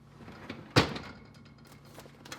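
Refrigerator drawer sliding open in a home kitchen, a single short clunk with a brief scrape, fairly close, followed by quiet room tone.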